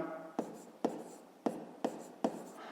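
Someone writes numbers by hand in five short, separate scratchy strokes, evenly spaced, quiet and close.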